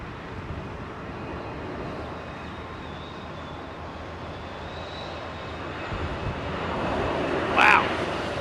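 An airliner bound for Boston takes off from Heathrow runway 27R, its distant engine roar swelling gradually louder toward the end.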